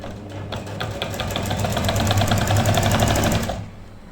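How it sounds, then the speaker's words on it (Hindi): A sewing machine stitches the hem of a kurta-style garment, running as a steady, close, rapid mechanical whir with fast regular needle ticks for about three and a half seconds before stopping. "पहले हम दामन की सिलाई लगाएंगे"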